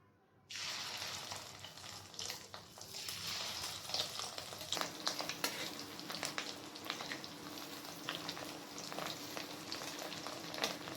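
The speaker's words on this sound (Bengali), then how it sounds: "ডিমগুলোকে আমি একই রকম ভাবে ভেজে নেব।" Fish roe fritters frying in hot oil in a kadai, a steady loud sizzle that starts abruptly and crackles on throughout, with occasional sharp pops and no talking.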